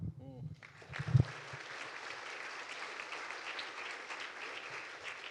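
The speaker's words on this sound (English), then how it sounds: "let's give a warm round of applause for all of our panelists" Audience applause for business panelists at a conference: after a brief spoken moment and a thump, steady, moderately distant clapping from a crowd fills the rest of the clip.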